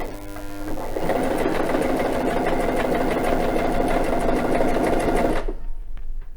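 A domestic sewing machine zigzag-stitches a decorative cord under a cording foot, running at a steady fast whirring clatter for about five seconds before stopping abruptly, close and loud with no speech.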